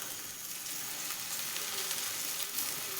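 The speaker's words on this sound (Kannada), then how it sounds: "ಇದಕ್ಕೆ ಮತ್ತು ಸುತ್ತಲೇ ಎಣ್ಣೆ ಬಿಡ್ತೀನಿ ನೋಡ್ರಿ" Steady, close sizzling of oil around a fenugreek-leaf thalipeeth frying on a pan, a continuous crackling hiss with faint bubbling and no talk.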